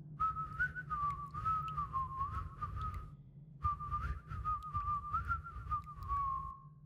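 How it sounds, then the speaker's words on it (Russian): A single clear whistled tune carried in long wavering phrases, paused briefly midway, then resumed, fairly close and steady. "я громко насвистывал что-то себе под нос"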